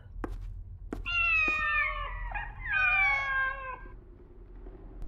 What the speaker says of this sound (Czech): Kočka.